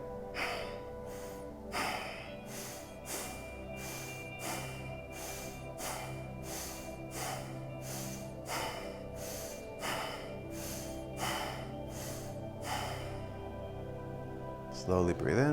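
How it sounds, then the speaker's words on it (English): Slow, deep breathing during a qigong exercise, with long breaths in and out repeating evenly and close to the microphone. "A couple more breaths like that."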